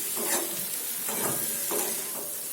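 A spoon stirs boiled egg masala in a hot pan, making repeated scraping strokes over a continuous bright sizzle, close and fairly loud with no talking.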